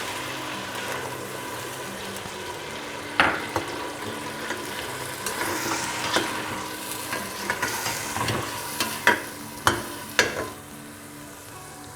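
Tomato puree poured over ginger frying in oil for palak chicken hisses in a loud, continuous sizzle, joined in the second half by a quickening run of sharp stirring scrapes against the pan, close up without speech.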